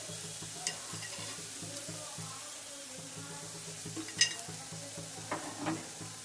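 Brinjal and potato curry frying in a pan, a soft steady sizzle with slow rhythmic stirring strokes and a few light spoon knocks against the pan, fairly quiet, with no speech.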